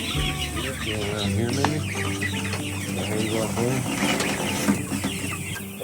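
Chickens clucking in a growing backyard flock, a dense chorus of overlapping clucks and calls close by, with a person speaking briefly over them.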